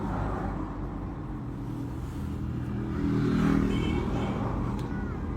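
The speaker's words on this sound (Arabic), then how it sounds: "شوف كيفاش غيديماري الموتور" Motorcycle engine being started by pushing and then revved, a rough running rumble that swells louder in the middle and settles back, heard outdoors with no clear talk.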